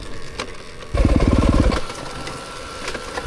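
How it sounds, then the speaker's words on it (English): Yamaha YZ300FX dirt bike fitted with a 304cc Athena big bore kit, idling unevenly: a lumpy, loping putter that surges into a rapid burst of firing pulses for about a second, then sags back to a rough, wavering idle. "the idle is still somewhat unstable and it has a tendency to flame out randomly"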